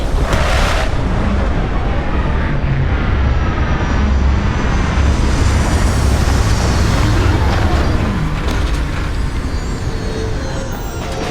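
A spaceship touching down in the game Starfield, a loud, continuous engine roar with a deep rumble that holds steady throughout, dense and close with no voices.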